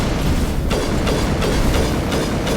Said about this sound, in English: That explosion sounded expensive.